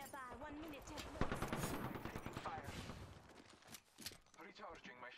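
Rapid bursts of automatic gunfire crackle in an Apex Legends match, dense volleys of shots in quick succession that thin out toward the end, mixed with game voices and effects.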